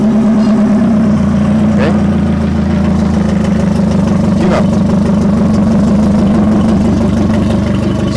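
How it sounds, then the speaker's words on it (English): A Yamaha F150 outboard engine idling steadily on a top flush adapter, a loud, continuous mid-pitched drone with a fixed hum throughout, while a person speaks briefly over it. "So still, with the engine running, you can see some spray from the exhaust, right?"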